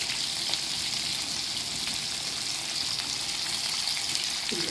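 Fish pieces frying in a pan of oil for fish curry, a constant dense sizzle and crackle at close range, even in loudness from start to finish.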